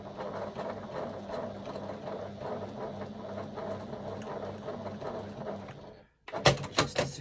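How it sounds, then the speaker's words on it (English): A sewing machine runs a short line of stitches across the end of fabric at a narrow seam allowance, a steady close whir for several seconds that stops abruptly and is followed by a few louder clunks and clicks. "I'm just going to do a few stitches across the very end here at about 1/8 of an inch seam allowance."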